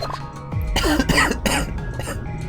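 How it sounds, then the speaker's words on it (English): Several harsh coughs from a person with a persistent cough, loud and close, in short bursts with brief pauses between them. "I'm just not having a good day for the cough."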